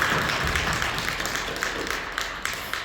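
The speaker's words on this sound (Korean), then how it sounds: "우리 박수로 격려해 주시기 바랍니다." Steady applause from a sizable church congregation fills the whole clip, dense and continuous with a few sharper claps standing out near the end.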